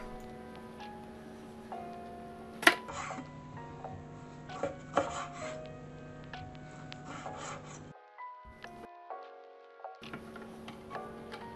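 A knife trims gristle from meat on a cutting board for carbonara: close, irregular scraping and rubbing strokes with occasional sharper knocks, with a short quiet break near the end.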